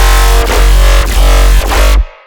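A dense, loud dubstep synth bass run through a Bode frequency shifter, with a wide smeared tone pulsing in rhythmic dips before stopping abruptly.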